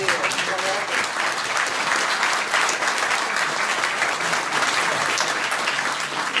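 A crowd at a live book-launch talk in Nîmes breaks into loud, dense applause that carries on steadily without a break, with some voices mixed in beneath the clapping.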